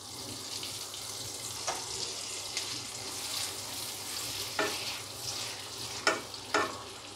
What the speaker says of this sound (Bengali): এবার আমি 2 টেবিল স্পুন বাটার দিচ্ছি।